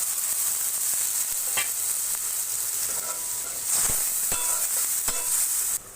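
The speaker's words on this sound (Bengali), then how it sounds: "পেঁয়াজ মরিচ ভাজা হয়ে গেছে, এখন আমি বেটে রাখা জিরা, রসুন, পেঁয়াজ, হলুদের গুঁড়া, মরিচের গুঁড়া সব কিছু একসঙ্গে দিয়ে দিব।" Onion and chili frying in hot oil as ground cumin, garlic, onion, turmeric and chili powder go in, a loud continuous sizzle with sharp crackles and stirring scrapes throughout.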